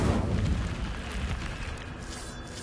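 Incendio fire spell cast in Hogwarts Legacy: a loud, deep whooshing burst of flame that roars at the start and then fades into a rumbling crackle.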